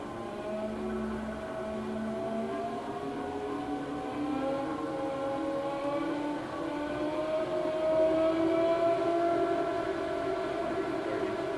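A 2008 Haas TL-4 CNC lathe with a 35-inch swing runs its spindle at a slow 60 RPM in the high gear range. It gives off a steady mechanical hum with whining tonal overtones that drift gradually upward.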